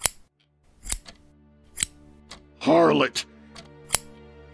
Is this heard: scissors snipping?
yes